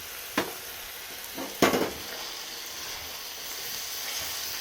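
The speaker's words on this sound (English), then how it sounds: "Now at this point, I'm going to add in my pieces of pepper." Pieces of small green pepper tossed into sizzling curry gravy for a chicken bhuna, with a steady close frying hiss broken by a couple of sharper stirring clatters.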